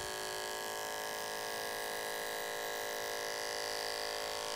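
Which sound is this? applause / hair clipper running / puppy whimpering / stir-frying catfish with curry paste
hair clipper running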